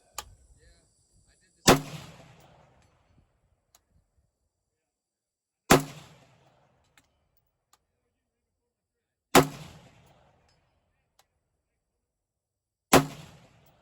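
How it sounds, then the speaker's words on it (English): Four sharp rifle shots at evenly spaced intervals, each followed by a short reverberating tail, fired at a steel plate on a 300-yard berm; faint distant ring of hits after the reports, no talking. "Shooting at 300 yards, which is the closest berm. Hopefully you can hear the hits."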